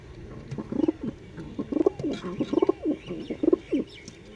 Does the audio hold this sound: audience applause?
no